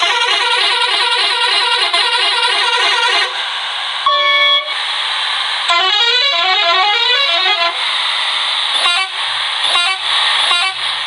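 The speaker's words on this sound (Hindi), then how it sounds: "तो आइए गाइस अब देखते हैं हम इस बस के हॉर्न साउंड।" A series of loud, harmonic bus horn blasts from Bus Simulator Indonesia, several different melodic and two-tone honks played one after another with short gaps.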